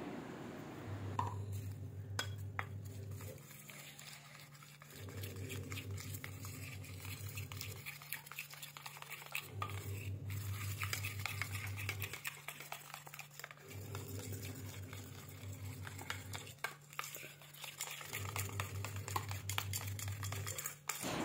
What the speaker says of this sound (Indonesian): Lalu kita aduk hingga tercampur rata sampai menghasilkan tekstur yang kita inginkan